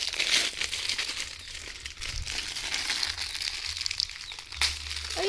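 Plastic parcel packaging crinkles and crunches continuously as it is opened, close and fairly loud, with scattered sharper rustles and no clear talk.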